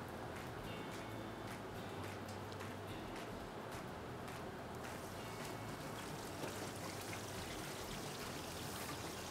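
Julienned leeks deep-fry in hot oil inside a small strainer, giving a steady, dense bubbling hiss with fine crackles that runs unbroken for the whole stretch at an even level.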